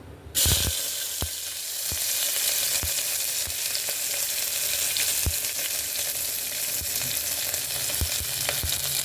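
Onions hiss and sizzle loudly in a hot pan for a roadside-style kuruma (salna), a dense steady crackle with occasional sharper pops and stirring knocks, no voices.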